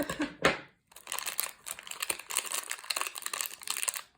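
Crinkly plastic packaging of a Doorables Pixel toy, opened with scissors, rustles and crackles in close, irregular bursts, with a brief pause before the crinkling resumes steadily.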